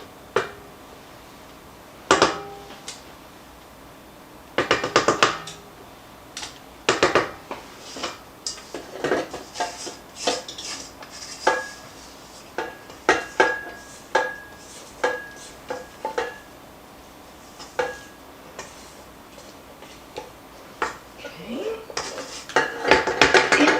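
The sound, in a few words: scraping down a mixing bowl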